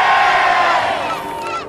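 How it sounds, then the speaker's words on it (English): A big crowd at a campaign rally lets out a loud, sustained cheer with shouts and whoops mixed in, strong at first and easing slightly as it goes on. "I'd like to hear a big cheer from you now."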